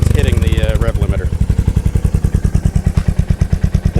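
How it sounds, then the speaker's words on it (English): A Royal Enfield Hunter 350 with a Coffman's shorty slip-on exhaust revs hard and holds at redline, the sound pulsing in a rapid, stuttering rhythm as the rev limiter cuts in, loud and close. "That's full red line. That's hitting the rev limiter."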